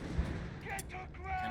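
Rifle fire from riflemen in Company of Heroes 3, a wartime strategy game, crackling as short sharp shots over a continuous battle din, with a voice talking over it.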